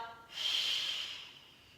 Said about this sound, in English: It's hard for me to do this deep breath and talk, but exhale.